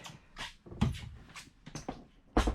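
The cabin door of a 1998 Sealine S24 Sports Cruiser lifts and slides back in a few short bumps and scrapes, up close and fairly quiet.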